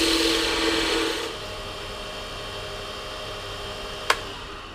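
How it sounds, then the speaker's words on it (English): A wood lathe hums steadily while a thin parting tool cuts off a cabochon of Poor Man's Fordite from Cadillac Ranch, a brighter scraping at first that fades, then a single sharp click near the end. "then I'm going to go ahead and part it off with the thin parting tool"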